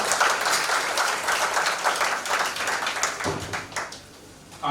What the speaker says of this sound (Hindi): मैं चाहूंगा एक बार जोरदार तालियां हो जाए मीडिया के लिए